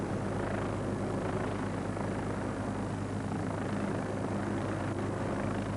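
A helicopter drones steadily with a low, churning rotor thump, holding constant and fairly distant throughout without any voices, clearing the decks of crayfishing boats.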